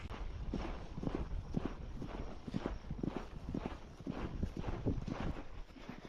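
Hooves of a ridden horse named Blue clip-clop in a steady walking rhythm on a ranch during a cattle move in 104-degree heat, close and even throughout with no talk over them.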